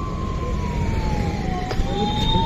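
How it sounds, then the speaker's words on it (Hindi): An ambulance escorting a pedal pilgrimage from Indore to Ayodhya sounds a siren whose steady, slowly falling tone carries over continuous traffic and engine noise on the road. "ये एम्बुलेंस साथ में चल रही है।"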